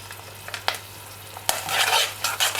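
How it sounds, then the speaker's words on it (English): Bacon drops into a hot pan with a sharp hit, and a loud, steady sizzle of frying follows, with a few light clinks of stirring before it. No one speaks. "We need to put our bacon in. Here it is, reserved from earlier. In that goes."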